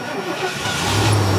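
An older RV truck's carbureted engine fires up and settles into a rising, steady idle close by, loud and continuous, with some talk over it.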